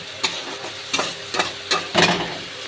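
A spatula scrapes and stirs a dry ground pointed gourd paste in a pan with no water, five or six distinct scraping strokes at an uneven pace over a soft sizzle, close up and without talk.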